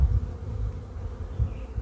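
Honeybees at a queenless hive buzz in a steady low drone, a dense continuous hum with slight swells, close by and alone.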